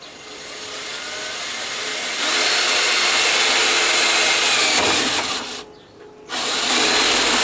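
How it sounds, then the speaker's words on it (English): Power drill boring a pilot hole with a small bit, likely into metal, running as a steady loud whir for several seconds, briefly easing off near the end before spinning up again. "I'm just gonna use a little drill bit here to get a pilot hole"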